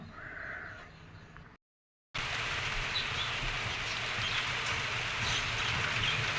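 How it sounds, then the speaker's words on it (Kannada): First rain of the year falls on a village as a dense, steady hiss of drops. It drops out briefly to silence, then returns at an even, moderately loud level with no talk. "ನಮ್ಮ ಕಡೆ ಎಲ್ಲ ಈ ಥರ ಮಳೆ ಬೀಳ್ತಾಯಿದೆ"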